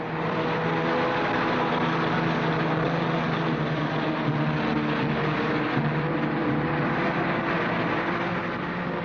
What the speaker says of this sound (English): The only sounds were the drone of the engines